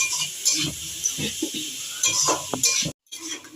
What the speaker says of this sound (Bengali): এবার এটাকে ভালো করে ভাজা ভাজা করবো।